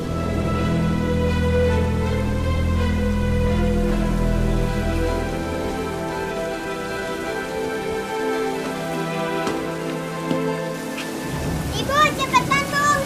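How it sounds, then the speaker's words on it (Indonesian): Heavy rain pours steadily throughout, with musical tones playing over it and a brief burst of higher sounds near the end. "Soalnya hujannya deras, Nak."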